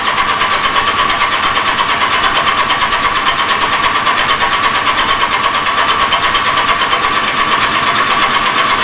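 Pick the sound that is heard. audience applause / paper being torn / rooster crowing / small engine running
small engine running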